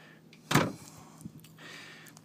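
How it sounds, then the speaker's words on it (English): A sliding door in an RV bedroom is pushed across its track, giving one loud close-up rolling clunk followed by a softer knock and a faint trailing rumble. "There's a slider door right here. It just slides across."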